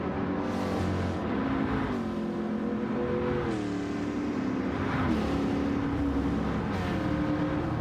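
Gran Turismo 7 race car engine, loud and continuous, with repeated rising revs broken by gear shifts that drop the pitch every second or two, no voices.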